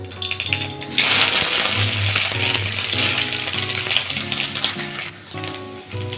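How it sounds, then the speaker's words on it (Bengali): Soybean chunks fry in very hot mustard oil in a kadai, a loud, close, continuous crackling sizzle with bright spattering pops and faint background tones, no voices. "সয়াবিনগুলো ভাজা করে নেবো।"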